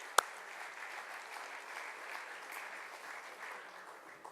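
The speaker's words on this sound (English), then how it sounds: "A big round of applause for the Krishna family." Applause from guests at a family event honoring the Krishna family, a soft, even wash of clapping at a distance after one sharp nearby clap.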